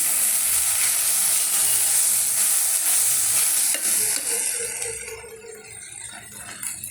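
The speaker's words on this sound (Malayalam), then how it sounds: "ഇതുണ്ട് നമ്മുടെ മീൻ കറി തിളച്ച് തുടങ്ങി കേട്ടോ" Fish curry bubbling and sizzling hard in a pot, a loud steady boil with faint rattles that eases toward the end, with no voices.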